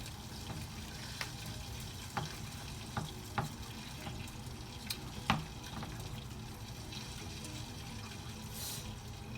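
Food is stirred in a pan while cooking grilled mackerel dishes, with a continuous sizzling hiss and scattered scraping clicks from the utensil against the pan.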